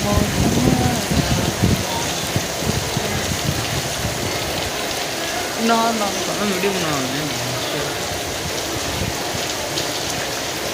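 Rain falls steadily in Faisalabad, Pakistan, a constant close hiss of drops on surfaces with an idling engine rumbling underneath, while people talk over it and a brief tonal voice passes midway.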